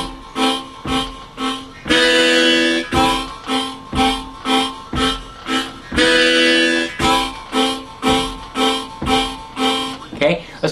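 A harmonic minor harmonica plays a rhythmic draw-and-blow pattern: a series of short, evenly pulsed chords, loud and close, broken by two longer sustained chords.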